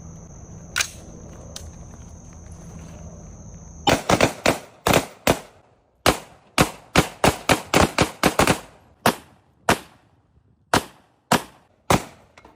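Sharp gunshots aimed at Bud Light beer cans with a backstop of bras, a quiet lull, then a rapid string of about twenty close, loud cracks with uneven spacing, some in quick bursts, fading into single spaced shots.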